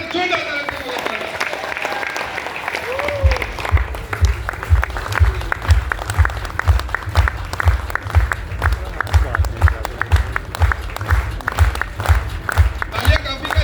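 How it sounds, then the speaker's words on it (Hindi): An audience claps loudly and steadily to welcome a guest at an event, the dense applause beginning after a few seconds of speech and continuing to the end. "जोरदार तालियों से स्वागत करें।"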